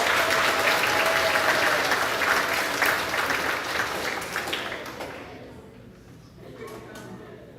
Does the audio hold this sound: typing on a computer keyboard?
no